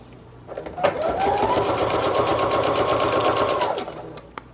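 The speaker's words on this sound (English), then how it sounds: "sew down this side and this side because I like that texture" A sewing machine stitches a straight line down the side of a decorated paper envelope, a close, steady motor whir of about three seconds that starts and stops cleanly.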